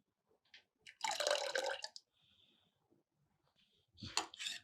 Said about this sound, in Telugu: ఏసి దీంట్లో కావాలంటే కొంచెం వాటర్ యాడ్ చేసుకోండి